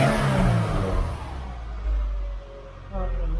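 A Subaru ice-racing autocross build with its exhaust silencer removed revs up nearby, a loud, raspy engine roar that swells and dips over a few seconds.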